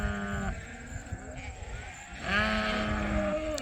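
Sheep bleat loudly and close by in an indoor pen on a breeding farm, two long wavering calls over a steady backdrop of rustling and shuffling movement.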